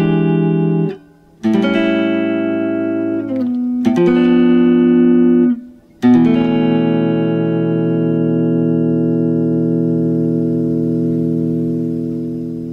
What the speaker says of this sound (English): So the chords in the keyboard progression will sound like this on the guitar